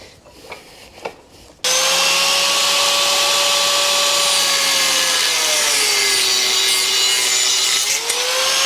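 A power cutting tool slicing a bracket off a VL250 bobber motorcycle frame, starting abruptly after a few faint knocks into a loud, close, sustained whine that sags in pitch as it bites into the metal.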